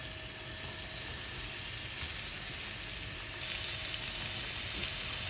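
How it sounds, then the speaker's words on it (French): Spring onions hit hot oil in a pan and give off a steady, close, continuous sizzle, a dense crackling hiss that holds at an even level throughout with no voice over it. "Là, je vais rajouter un peu d'huile, pas trop, hein. Et on va mettre les oignons nouveaux."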